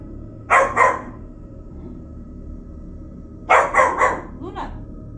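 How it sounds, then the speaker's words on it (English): A dog barks twice, pauses, then lets out a quick run of three or four barks trailing into a softer yip, close by. "who are you barking at?"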